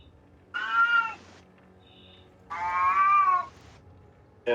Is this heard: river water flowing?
no